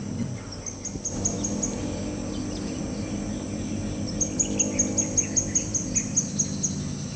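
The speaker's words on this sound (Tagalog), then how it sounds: "Ihuni pa ng ibon." Birds sing and chirp in a quiet outdoor morning setting at a glamping site, with a high, rhythmic run of repeated notes growing clearer toward the end.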